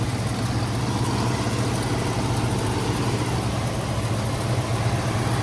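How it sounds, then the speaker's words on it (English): A 1969 Ford Mustang Mach 1 with a matching-numbers 428 Cobra Jet V8 idles steadily and close up, a deep, even rumble with a low throb that holds constant throughout with no talking. "good running, good sounding engine."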